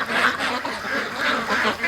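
Free-range Muscovy ducks quack in a busy, overlapping flock, a steady run of nasal calls close by with no pause across the short stretch.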